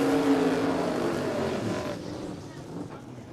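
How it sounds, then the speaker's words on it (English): A turbocharged Hemi-powered Black Ute drag car roars loudly at Warwick Dragway, its engine note sweeping and fading as it pulls away, with a commentator talking over it. "the Black Ute from the north side of Brisbane with the turbocharged Hemi in it"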